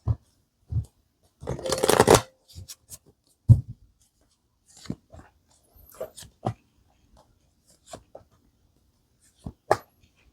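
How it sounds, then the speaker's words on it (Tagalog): Tarot cards are shuffled in irregular close bursts, with a dense riffle near the start and then scattered soft slaps and flicks of the deck. No speech is heard. "Balasahin ko lang"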